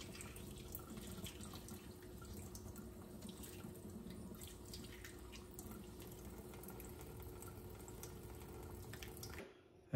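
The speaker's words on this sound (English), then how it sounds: "under gently running warm water, you'll find that the egg will peel very easily." Warm tap water runs gently and steadily at a sink while a boiled egg is peeled under it. The flow is soft and constant, with faint drips, and stops abruptly at the end.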